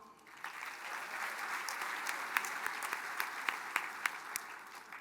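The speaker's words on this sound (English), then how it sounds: "Let's give another round of applause to the elected and appointed officials" An audience at a tribal State of the Band program applauds elected and appointed officials, a sustained round of crowd clapping with a few sharper claps standing out near the end.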